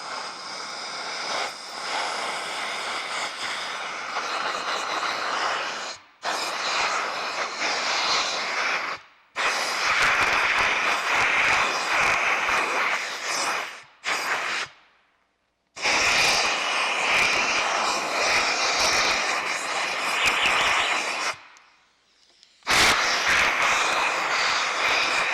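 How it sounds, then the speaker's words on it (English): Compressed air blasts through the spark plug hole of a Ford Triton 2-valve engine cylinder to clear out shavings, a loud hissing roar in several long bursts separated by brief pauses. "we'll just blow air through here, which will remove all the shavings"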